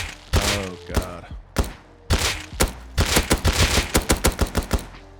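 Rust's SAP semi-automatic pistol fires in sharp, punchy shots: a few spaced single shots first, then a fast run of rapid shots, loud and close with no talking.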